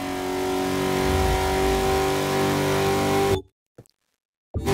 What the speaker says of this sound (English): That's a nice kind of old-fashioned big grunt of an engine.